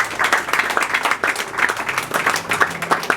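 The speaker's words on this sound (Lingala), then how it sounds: "Sous vos acclamations, s'il vous plaît." An audience applauds at the official installation ceremony of a provincial youth league bureau, giving steady, dense clapping that continues without a break.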